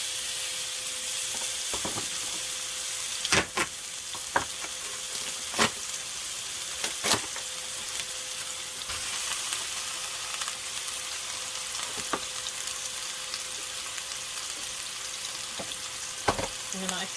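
Ground turkey frying in a pan with a little added fat over medium heat gives a steady broadband sizzle throughout, dotted with scattered pops and a few utensil scrapes and taps.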